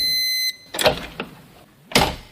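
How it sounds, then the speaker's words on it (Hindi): Door sound effect in a Hindi horror story: after a fading electronic tone, a loud creak and thud sound, then a lighter knock, then another sharp bang, all isolated with no talk. "दरवाजे की आवाज एक बार फिर से आई"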